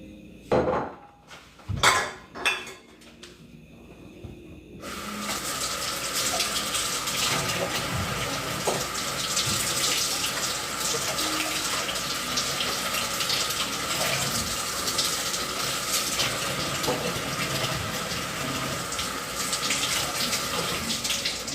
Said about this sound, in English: If you buy fresh eggs, always remember to wash them if they don't come pre-washed.